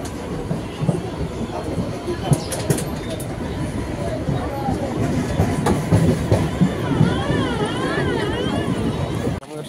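A train at Ranaghat railway station rumbles and clatters steadily, with crowd chatter and voices around it and a few sharp clanks and squeals.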